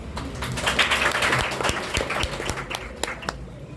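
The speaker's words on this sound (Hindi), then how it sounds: "ताली बजाओ यार।" A college audience at an entrepreneurship talk in Pune claps in a loose burst of applause, individual claps standing out as it thins toward the end.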